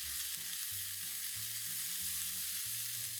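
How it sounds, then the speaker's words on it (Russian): Mackerel sizzles and fries steadily in a pan while being stirred, a loud continuous hiss with dull low scraping knocks of the stirring underneath, no talk. "Перемешиваем и обжариваем еще буквально 2 минутки."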